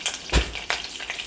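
Prawn masala frying in a pan gives short bursts of sizzle and spatter, with a few louder pops over a soft hiss, close up and with no talk.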